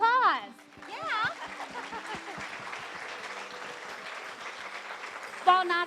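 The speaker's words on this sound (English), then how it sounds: "Let's give them applause." Audience applause at an awards event, a broad steady wash of clapping that runs under a speaking voice heard at the start and end of the clip.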